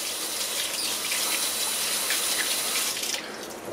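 Tap water running steadily over Singer 306K sewing machine motor parts in a strainer, a loud continuous splashing rinse that cuts off near the end.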